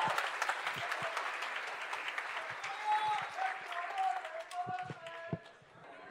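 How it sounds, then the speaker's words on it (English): An audience at a campus orientation event applauds a guitarist, producing a dense burst of many hands clapping that gradually thins out and fades, with some speech mixed in. "Can we have a round of applause"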